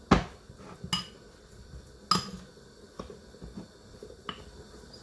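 A spoon works food in a bowl for chicken vegetable soup with pigeon peas, giving sharp, scattered clinks and knocks against the bowl with soft scraping in between, close and unaccompanied by speech.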